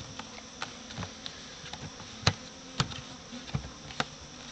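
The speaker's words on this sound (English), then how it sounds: "you can adjust your suction as you're sucking up the bees" Bees being drawn up through the nozzle of a Vac-a-Bee bee vacuum, giving a steady insect buzz over a low suction hum, broken by several sharp knocks and thumps as bees and debris hit the hose.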